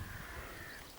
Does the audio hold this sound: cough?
no